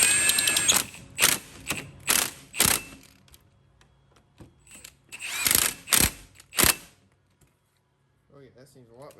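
Ratchet wrench tightening bolts on a weathered, neglected ATV, heard as bursts of rapid clicking strokes, fairly close, with pauses between sets and a faint voice briefly near the end.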